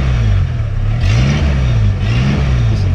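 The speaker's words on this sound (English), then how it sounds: "This is an imp starting." Hillman Imp with its 875cc rear-mounted engine starting and revving, a loud steady mid-pitched drone rising and falling in a few surges with a small rear silencer, close by and with no voices.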